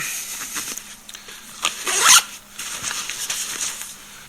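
An outside pocket on a backpack is zipped in a quick rasping pull, close by, amid light handling rustles and fabric sounds.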